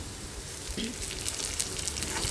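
Spices with ghati masala and a little coriander sizzle steadily in hot oil while being sautéed for an egg curry, a continuous close frying hiss with faint stirring.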